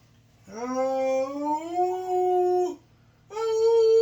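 Puppy letting out two long, wavering howls that trail into whimpers, loud and close, with a short pause between them.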